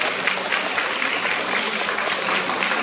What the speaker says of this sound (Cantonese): 我哋再俾熱烈嘅掌聲，6C 班嘅